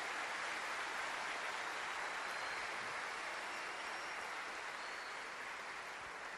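A church congregation claps continuously at an even level after a Gospel reading at Mass, a dense wash of applause heard from some distance, with no voices standing out.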